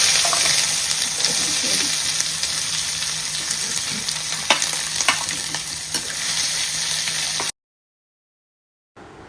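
Chopped onions fry in hot oil with whole spices like cinnamon and cloves for a spicy mushroom gravy, giving a loud, constant sizzle with occasional stirring clicks, then silence.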